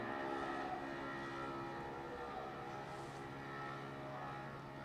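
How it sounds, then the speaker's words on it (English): A very loud moped speeds down a highway beside a cricket ground, its engine a steady, buzzing drone that holds fairly constant and loud throughout, with no clear talk over it. "It's a very loud moped speeding down that highway"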